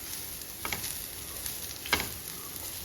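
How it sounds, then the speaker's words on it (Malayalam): Shredded cabbage frying in a pan for a Kerala-style cabbage mezhukkupuratti, with a soft continuous sizzle and two brief scraping stirs, quiet and close. "ക്യാബേജ് ചേർത്ത് നമുക്കൊന്ന് ഇളക്കിയതിന് ശേഷം മൂടി വെച്ച് കൊടുക്കാം"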